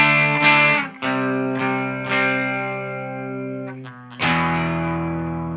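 Electric guitar on the bridge pickup through a Santono Uno overdrive preamp pedal rings out in sustained, saturated chords, a few strums separated by short gaps, loud and close.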